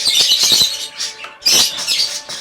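Small birds chirp and tweet in a small aviary, a close flurry of quick high calls in short bursts with brief pauses between them.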